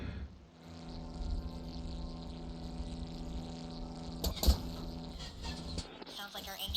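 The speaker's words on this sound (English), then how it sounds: "Sounds like our engine is struggling up here." A struggling airship engine at high altitude in the brewing game The Brew Barons: a steady, fairly quiet droning hum with a buzzing tonal whine, briefly swelling near the end.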